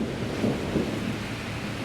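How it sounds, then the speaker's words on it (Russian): A July thunderstorm on a Bishkek street at the corner of Shopokov and Toktogul gives a steady dense roar of rain with faint low rumbling, fairly close and unbroken, no voices. "Гроза."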